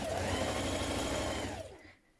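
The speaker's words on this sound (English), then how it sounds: "stitch your side seams in place" Domestic sewing machine stitching the side seams of a New Look 6808 spring top, a steady fast motor hum with rapid needle clatter throughout that slows and stops near the end.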